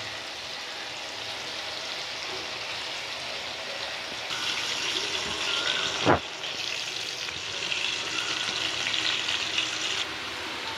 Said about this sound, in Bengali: একটু নুন দিয়েছি আর একটু হলুদ দিয়েছি। এবার এটা পুরো লাল লাল করে ভাজা হবে